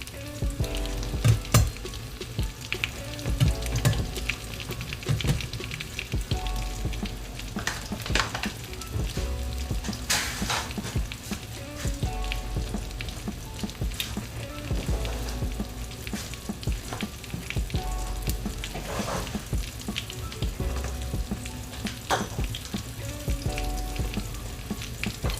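Pork fried rice frying in a pan, a continuous close sizzle with scraping and stirring clatter of a utensil throughout, no talking.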